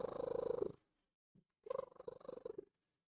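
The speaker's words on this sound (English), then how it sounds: "My cat likes to trill." A pet cat trills and purrs close by: one rolling, harmonic burst, a short pause with a faint chirp, then a second longer run of fluttering trill-purrs, with no talking.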